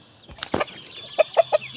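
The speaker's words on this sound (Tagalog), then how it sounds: "nandito tayo sa ating mga manok" Aseel gamefowl cluck close by in a quick series of short, bright calls, a few scattered notes followed by three evenly spaced clucks.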